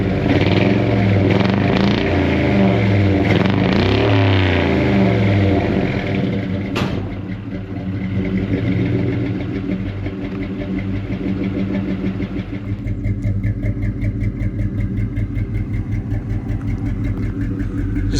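A Ford F100 truck with a custom-made full exhaust runs nearby, a deep loud rumble with rev changes early on, then settling into a steady, throbbing idle.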